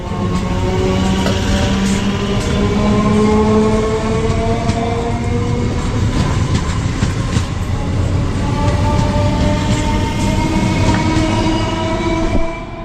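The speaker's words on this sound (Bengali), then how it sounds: "এখন 1 নম্বরে একটা ট্রেন আসলো," A train rolls into platform 1 at Kamarkundu station on the line to Tarakeswar, a loud sustained rumble of wheels and carriages with steady tonal whine and faint clatter throughout, close by and continuous.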